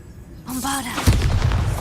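Bombarda blasting spell from Hogwarts Legacy erupts in a single heavy booming explosion after a brief rising magical whoosh, loud and close, with a rumbling tail that carries to the end.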